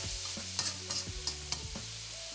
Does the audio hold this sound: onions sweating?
yes